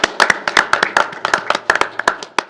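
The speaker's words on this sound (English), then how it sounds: "So can we give a round of applause to Mr. Tim Lemmers" Sparse hand clapping from a small group at a city Common Council meeting, with quick, uneven claps close by and no talking over them.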